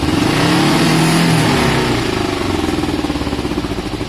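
Kawasaki ER5 motorcycle engine being revved slowly during a restoration test, a loud close rumble rising and falling through a gentle throttle sweep, then settling into a pulsing idle.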